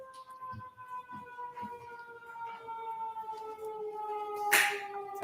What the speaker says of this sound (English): I was just waiting for the siren